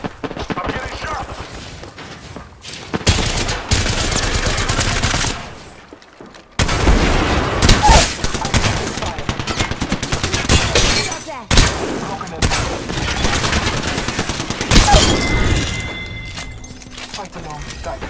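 Incoming gunfire strikes the player in Apex Legends as repeated loud bursts and rapid volleys with shattering impacts, broken by short lulls, while someone speaks over the combat.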